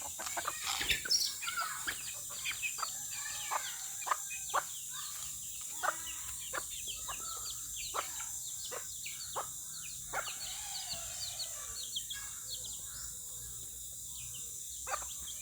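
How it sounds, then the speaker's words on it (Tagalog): Several roosters crowing and clucking around a farmyard on a Sunday morning, with repeated calls from different birds near and far over steady background chirping and a constant high hiss. "Dami ng tandang oh."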